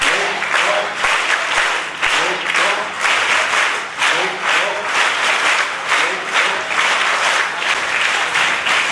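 Loud, sustained applause from a crowd at a patriotic song and devotional bhajan evening, dense clapping that swells and dips in steady waves throughout.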